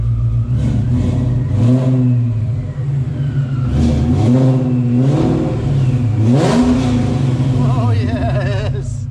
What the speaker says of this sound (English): let's give it a rev real quick.